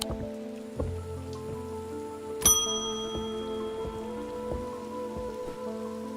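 Rain falling in the video game Little Witch in the Woods, a steady soft patter running throughout alongside tonal game music, with no voices.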